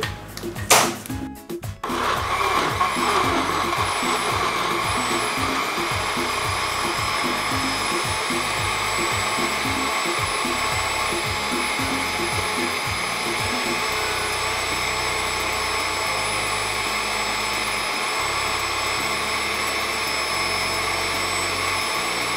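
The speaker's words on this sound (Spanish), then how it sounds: "Vamos a agregar un chorrito más de aceite y procederemos a realizar el licuado." Blender running steadily at high speed, whirring loudly through a batch of Arequipa-style ocopa sauce with added oil and crackers; a short clatter at the start gives way to a continuous, even motor roar with no talking.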